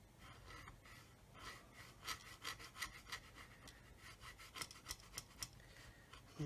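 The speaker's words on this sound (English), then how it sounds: "And basically keeping the saw 90 degrees to the surface." A small hand saw cuts through a plastic part of a 1/32 scale Kitty Hawk OV-10 Bronco model kit, with quiet rhythmic rasping strokes that grow into sharper, more regular back-and-forth pulses.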